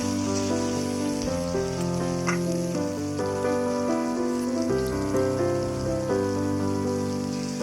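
Chopped tomatoes sizzle and get stirred in hot oil with panch phoron, an early step of a Bengali tangra fish jhal; a steady frying hiss runs under loud background music.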